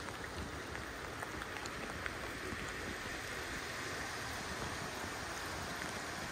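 Steady rain over a marina in Iowa where a 2007 MacGregor 26M sailboat lies at its mooring, heard as an even, dense hiss of falling drops that stays constant throughout with no voices.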